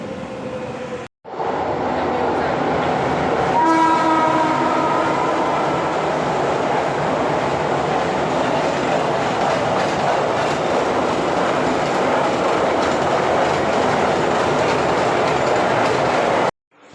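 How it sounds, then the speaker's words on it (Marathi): A train passes close by a home's window, its wheels rolling in a loud, continuous rumble with rhythmic clickety-clack and a brief squeal early on, sustained for the whole stretch without speech. "इथून ट्रेन जाते"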